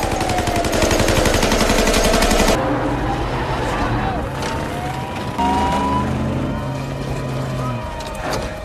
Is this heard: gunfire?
yes